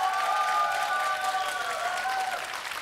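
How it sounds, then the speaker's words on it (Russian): Studio audience applauding and cheering for a finalist on a televised melody-guessing game show, a dense, sustained burst of clapping with music tones running underneath. "Аплодисменты нашему финалисту Владимиру Тимощенко."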